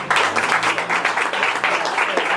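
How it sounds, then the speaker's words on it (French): An audience at a school gathering applauds a student delegate with a brief, dense burst of clapping that is loud and close. "On applaudit Mademoiselle Thiela Flore jusqu'à ce qu'elle vienne ici."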